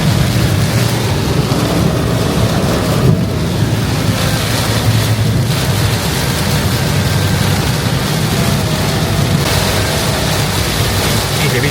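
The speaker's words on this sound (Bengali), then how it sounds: "প্রচণ্ড জোরে বৃষ্টি নেমে এসছে।" Heavy rain near Rambha, Odisha pours in a steady, dense roar that holds constant throughout, with no voices.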